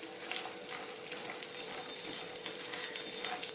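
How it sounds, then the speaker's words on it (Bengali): Coconut pieces for rawa idli frying lightly in a pan on a low gas flame, giving a steady, even sizzle throughout with no voices. "এটা খুব কড়া করে ভাজার কোনো দরকার নেই, জাস্ট নর্মাল একটু ভাজা"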